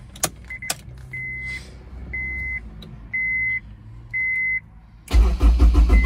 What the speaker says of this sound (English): how the car likes cold starting